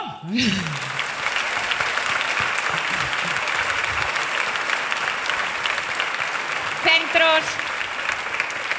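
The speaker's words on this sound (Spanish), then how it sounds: "Aplauso." A concert audience at the Mariñaencanto music event applauds loudly and continuously, a thick rush of overlapping claps, with a brief voice at the start and another short vocal sound near the end.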